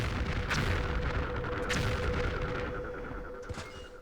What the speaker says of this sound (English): I got the variation where the explosions are continuing